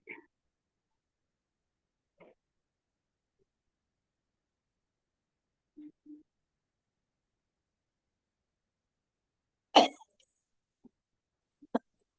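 A single sharp cough stands out in an otherwise silent room, with a few faint throat sounds and small noises scattered before and after.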